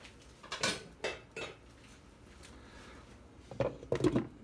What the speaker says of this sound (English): I put a lid on there.